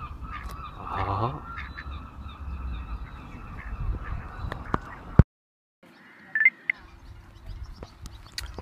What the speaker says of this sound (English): Oh, what is this, Mr. Duck?